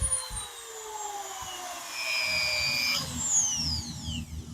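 A WEN rotary power tool spins at variable speed, its high whine sliding down and back up in pitch as the motor is cranked, with a low rumble underneath.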